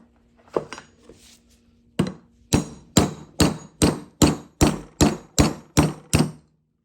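A hammer drives a punch into the bore of a leaking power steering pump during a rebuild: a few light taps, then about ten steady, loud metallic strikes in an even rhythm, close up.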